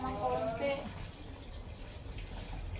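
Water trickles weakly from a tap into a sink of dishes, a soft, thin, steady running sound, with a voice talking briefly at the start.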